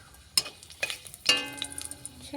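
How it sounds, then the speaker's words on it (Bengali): Chili fries in hot oil with a light sizzle, broken by a few sharp metallic scrapes and clinks of a spatula against the pan, while making Bengali potol curry. "লঙ্কাটা একটু ভাজা ভাজা করে নিই"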